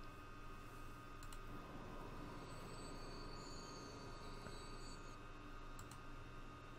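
A train running in the video game Transport Fever, a steady rumbling rail drone with faint wheel squeal tones, continuous and moderately distant.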